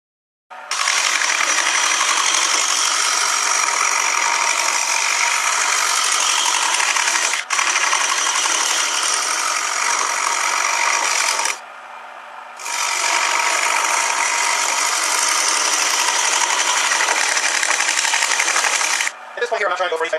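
A WEN 12 x 18 inch five-speed wood lathe turns a wood blank while a gouge cuts it, giving a loud, continuous rasping shear close by with a few brief pauses where the tool lifts off.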